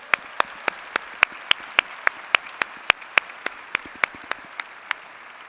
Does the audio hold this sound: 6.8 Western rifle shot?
no